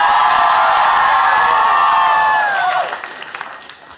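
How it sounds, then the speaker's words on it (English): Large event crowd roaring with cheers, shouts and applause, loud and sustained before thinning into scattered claps and whoops. "Let me hear you shout."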